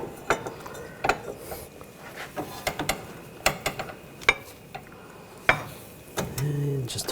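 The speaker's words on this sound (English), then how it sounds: "We'll use an inner tie rod tool." An inner tie rod tool with a 1 7/16 adapter loosens the inner tie rod on a 2014-2020 Nissan Rogue: sharp, irregular metallic ratchet clicks and clanks, close by, with short gaps and a duller rumble near the end.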